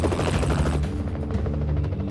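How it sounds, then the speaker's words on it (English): Helicopter flying low over a building during the 1997 Lima hostage crisis, a loud continuous rotor chop with dense rhythmic thumping, alone with no voices. "Hay un helicóptero por aquí."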